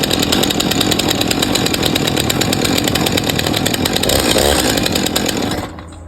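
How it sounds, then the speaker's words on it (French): A SimpliScie Uxon chainsaw engine roars loudly and steadily at close range, then cuts off abruptly near the end. "pour démarrer la tronçonneuse"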